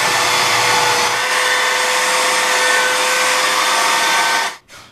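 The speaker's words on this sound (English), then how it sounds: "I'm going to use a belt sander, which I don't recommend if you got a heavy hand." Belt sander rounding and smoothing the edges of a custom spoiler for a Pontiac G8 GT, a loud, steady high whine with a gritty abrasive hiss, close up, running continuously before cutting off abruptly near the end.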